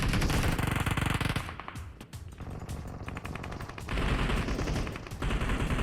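Rapid bursts of automatic gunfire in the video game PUBG Mobile rattle loudly, with a short lull before the firing picks up again, dense and close.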